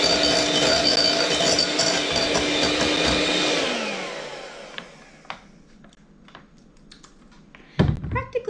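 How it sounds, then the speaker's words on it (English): An electric kitchen mixer, one that keeps tripping the breaker, whirs loudly for about four seconds, then winds down and cuts out, followed by quiet scattered clicks and a short rattling clatter near the end. "I need a new mixer, I think, guys."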